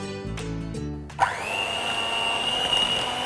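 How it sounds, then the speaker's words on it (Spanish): An electric mixer whirs into a steady, close, high-pitched drone as it beats chocolate ganache for a pear and chocolate tart, after a brief stretch of musical tones. "acá termino de batir mi ganache"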